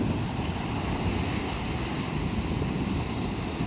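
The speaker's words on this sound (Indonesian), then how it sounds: "Ombaknya relatif tenang" Calm sea waves on a white sand beach at Pasetran Gondo Mayit, Blitar, make a faint, steady wash of surf blended with soft wind noise, continuous with no distinct breaking crashes.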